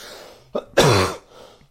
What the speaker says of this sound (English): Oh, that's a chesty cough.